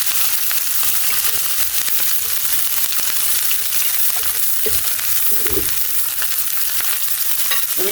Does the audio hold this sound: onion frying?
yes